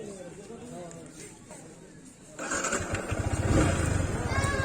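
A Bajaj V3 motorcycle is ridden, its engine a low rumble that grows louder and busier partway through, with people talking faintly over it.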